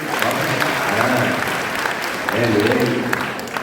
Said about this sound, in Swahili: wapigeni makofi